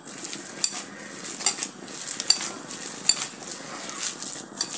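Spoon scraping and stirring a stale bread mixture with parsley and baking powder in a pan, soft irregular scrapes and light clinks over a faint sizzle, close and quiet.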